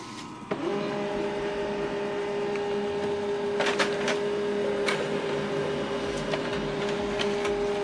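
HP LaserJet MFP M140WE laser printer running a copy job: a steady mechanical whir with a sustained tone starts abruptly near the beginning, joined by clicking and rattling bursts as paper feeds through.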